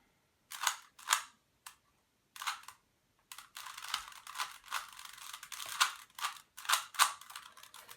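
Plastic Rubik's cube twisted by hand during a solve, giving a run of quick, dry clicking and rattling bursts, sparse at first and then nearly continuous, close and fairly quiet with no talking.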